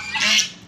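Ducks cry out at a rural Nepali home in the morning, a single loud, rough call swelling and fading over under a second, with no talk.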